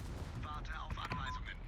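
Secondary guns on the Anhalt battleship fire in a quick cluster of muffled booms during a World of Warships naval battle, fairly faint under continuous game ambience.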